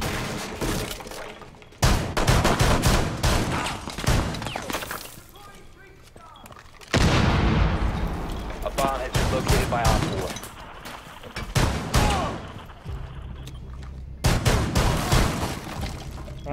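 Shotgun blasts fired through a wall in the tactical shooter Rainbow Six Siege, three loud bursts with crashing, shattering debris and breaking material, separated by quieter pauses with faint background sound.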